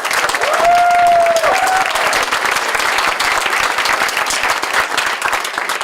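Loud, sustained crowd applause fills an evening political rally, with a brief cheer or whistle rising early on before the clapping carries on evenly to the end.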